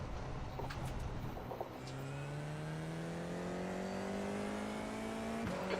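Race car engine in the F4 Silverstone video game, a steady high drone that climbs slowly in pitch as it accelerates, with a brief gear-change dip and no talk over it.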